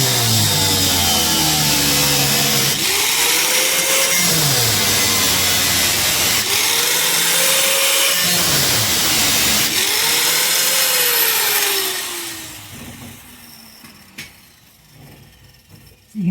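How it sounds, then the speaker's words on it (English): A cutting wheel grinds a narrow 1/16-inch gap into the sheet-metal floor of a 1956 Studebaker Power Hawk, a loud continuous whine with pitch dipping as the disc bites, then it spins down and stops near the end. "I put about a 1/16 inch gap in with the cutting wheel"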